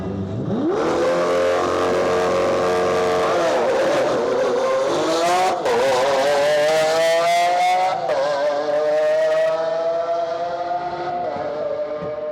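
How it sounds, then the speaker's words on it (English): Race cars at a drag racing shootout, engines roaring loudly as they launch and accelerate, pitch rising through gear changes with a brief skid-like burst midway, powerful and close. "Those are some fast cars"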